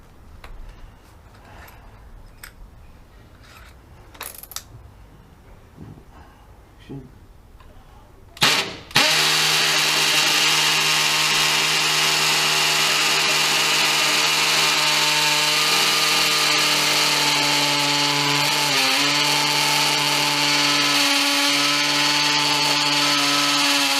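A Milwaukee M12 CPD drill starts after a few quiet handling knocks and bores into brick, a loud, sustained whine and grind held close and steady to the end.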